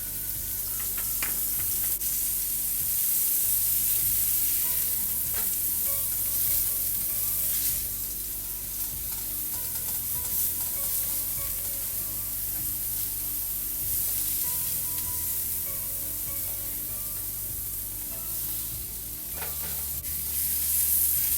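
Deer backstrap sears in vegetable oil in a pan, giving a loud, continuous sizzle and hiss that holds steady throughout, with occasional pops and no voices.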